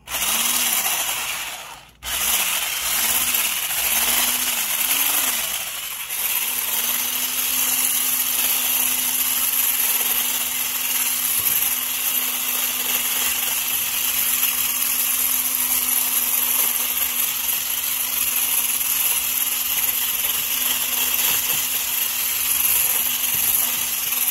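An electric mixer or whisk whirs steadily for a long stretch, briefly wavering at the start before settling into a constant drone while potatoes are whipped into garlic mashed potatoes, with no talking.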